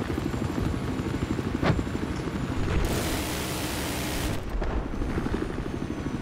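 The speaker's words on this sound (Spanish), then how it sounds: "Se apareció el helicóptero." A helicopter in the video game Battlefield 4 roars close and continuously with a broad, rushing rotor wash that swells into a louder noisy burst midway before settling back.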